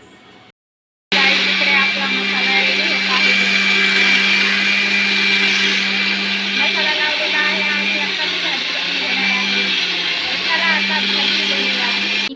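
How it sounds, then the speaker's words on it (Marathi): A mixer grinder whirs loudly and steadily as it grinds roasted masala for a crab curry, a constant motor drone after a short silent gap. "आता मिक्सरला लावून घेते"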